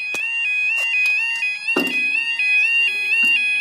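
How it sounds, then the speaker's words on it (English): Level crossing warning alarm at Haxby Station in York, a loud, screechy electronic tone sounding continuously with steady pitch shifts and repeated clicking pulses, plus a brief low bang partway through. "Screechy alarm there, it's awful."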